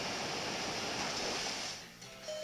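Pokémon move Muddy Water in a video game, a loud rushing wash of water like crashing surf that fades out near the end.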